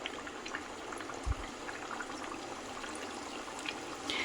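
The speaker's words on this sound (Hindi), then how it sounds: "तेल हो चुका है गरम, अब हम इसमें डालेंगे एक बार में 4-5 ही डालूंगी बस" Thekua, wheat-flour sweets, frying in hot oil on a medium gas flame, a steady bubbling sizzle throughout with one soft thump early on.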